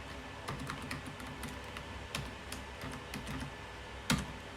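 Computer keyboard typing, a run of quick light key clicks in an irregular rhythm with one sharper keystroke near the end, close and fairly quiet with no voices.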